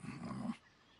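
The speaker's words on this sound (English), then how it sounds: "Don't you dare think about trying to capture an attack dog." An attack dog in Metal Gear Solid Delta gives a short, close growl that cuts off abruptly after about half a second.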